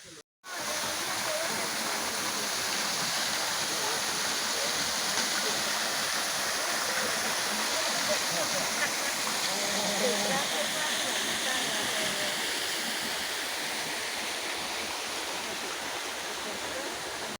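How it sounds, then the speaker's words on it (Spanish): A steady, full rush of falling water, the India Tibisay waterfall at Chorros de Milla zoo park in Mérida, roaring continuously and close by without pause. "Aquí es donde viene la cascada arriba, la cascada de la India Tibisay aquí."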